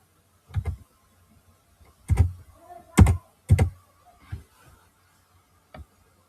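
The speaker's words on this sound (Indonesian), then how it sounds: "ketik lagi perintah show interface" Computer keyboard keys tapped while entering a switch configuration command, a few separate bursts of clicks with short pauses between them, close and fairly quiet in an otherwise silent room.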